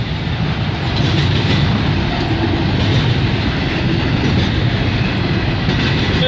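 A long Canadian freight train loaded with containers rolls past near Toronto, a loud, steady rumble of wheels and cars with faint clickety-clack, continuous and close for the whole stretch, with no talking.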